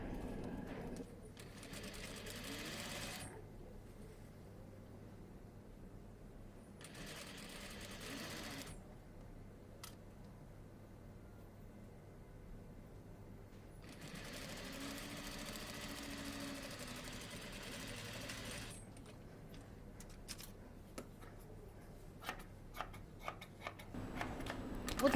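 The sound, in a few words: sewing machine stitching facing to a cashmere coat button stand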